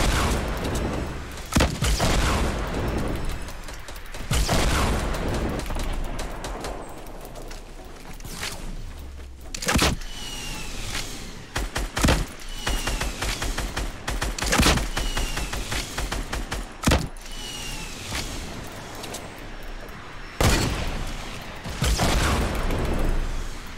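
Fortnite Battle Royale gunfire, repeated sharp loud shots and short bursts scattered across a busy game soundscape with mechanical clatter and intermittent booms between volleys.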